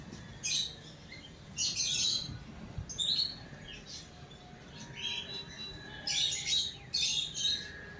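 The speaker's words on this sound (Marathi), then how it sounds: "वेगवेगळ्या प्रकारचे वेगवेगळ्या रंगांचे पक्षी इकडे होते" Various birds chirp and tweet near a hotel waterfall at Hotel Lake Pichola in Udaipur, in short, bright bursts of calls spaced across the scene with quieter gaps in between.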